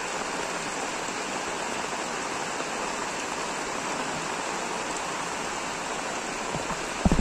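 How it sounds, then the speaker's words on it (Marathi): Water of a stream pours steadily over an earthen field bund, a constant broadband rush close by that barely changes, with a few faint knocks at the very end. "त्या बांधाला हे पाणी वरून जातं"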